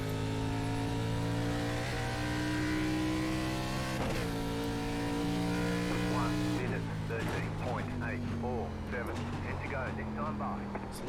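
An ARCA stock car engine drones steadily at Watkins Glen in iRacing, its pitch sliding down and then climbing as the throttle eases and reopens. Someone talks over the engine in the second half.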